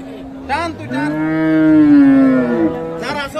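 Cattle mooing loudly and close at a busy livestock market, one long drawn-out low call rising and falling for about two seconds, with shorter bellows around it; the animals are cows and heifer calves.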